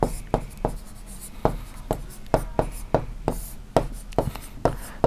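Handwriting with a pen or chalk, a series of sharp scratchy strokes and taps in irregular rhythm, close and clear, while a teacher explains a Class 6 geometry lesson in the background.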